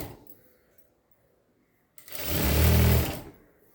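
A sewing machine stitches along a saree edge, silent at first, then a single loud, close mechanical whirr of about a second that stops abruptly.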